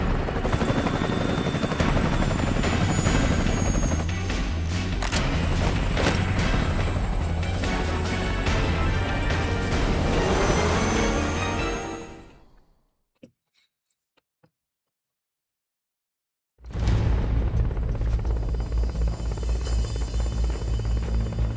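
A Hind attack helicopter in the video game Metal Gear Solid Peace Walker roars with a loud, steady rotor and engine drone that drops to near silence partway through, then resumes at full strength.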